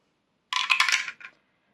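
A six-sided die rolled for a cash-stuffing savings challenge clatters and tumbles on a hard surface for under a second, with one last small bounce, close and clear with no talking.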